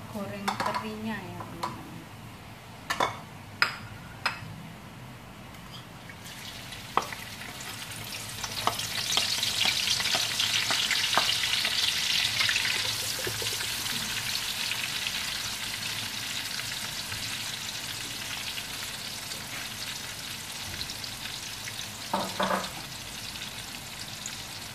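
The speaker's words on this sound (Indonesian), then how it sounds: "lalu kita goreng terinya ya" Anchovies (teri) frying in a pan of oil over medium heat: a steady sizzle that swells partway through, with occasional clinks and stirring knocks of a utensil, and a person talking at times.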